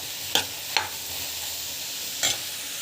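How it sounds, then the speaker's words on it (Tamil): Onions and asafoetida sautéing in a pan under a steady soft sizzle, with three brief sharp scrapes of a spoon stirring through them. "இந்த அளவுக்கு கொஞ்சம் நல்லா வதக்கணும்."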